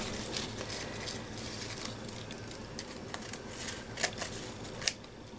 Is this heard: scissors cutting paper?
yes